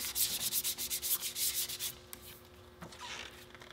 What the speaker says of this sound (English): you want to use your 60 to 80 grit sandpaper and rough up the distal end